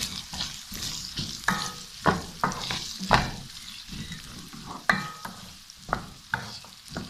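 Ingredients, including onion, frying in a pan over medium heat for khageena, a steady sizzle broken by repeated scraping stirs with a spoon, close and moderately loud, with no talking.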